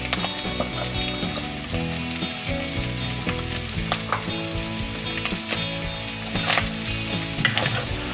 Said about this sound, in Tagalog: Now, sasama ko na itong chicken liver, stir fry natin.